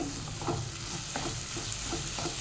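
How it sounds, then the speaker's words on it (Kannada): Tomatoes fry in a pan while being stirred, a steady sizzle broken by regular spatula scrapes about every half second, close and moderately quiet with no talk. "ಟೊಮೆಟೊ ಚೆನ್ನಾಗಿ ಫ್ರೈ ಆಗಬೇಕು ಅಲ್ಲಿವರೆಗೆ ಫ್ರೈ ಮಾಡ್ಕೊಳ್ಳುವ"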